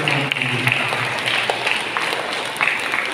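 Congregation clapping at a Catholic church feast, a dense continuous round of applause from a crowd that holds steady throughout, with faint voices underneath.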